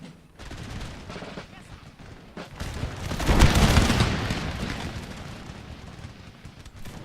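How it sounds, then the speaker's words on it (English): Musket volleys in the video game Empire Total War crackle in rolling, overlapping bursts, swelling to a dense, booming fusillade in the middle before easing off. "Let's return fire."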